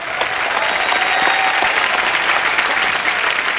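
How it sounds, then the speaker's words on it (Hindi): A studio audience at a comedy talk show applauds the cast with loud, sustained clapping, an even dense roar lasting the whole few seconds with no speech over it. "पूरी कास्ट के लिए एक बार जोरदार तालियां हो जाए"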